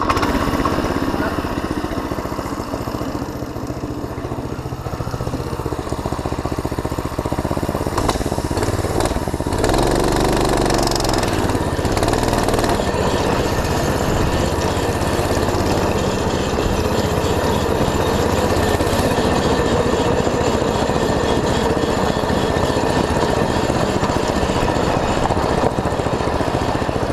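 A homemade go-kart with a 200cc, 6.5 hp engine runs close by, a loud continuous rattling drone that holds steady throughout with slight rises in pitch, while someone talks over it.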